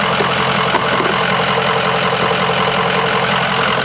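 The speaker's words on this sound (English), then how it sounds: "That's the way a Power Stroke is supposed to sound." A 2005 Ford E450 with a Power Stroke diesel idles close by, a loud, steady, dense rumble with an even clatter and no talk over it.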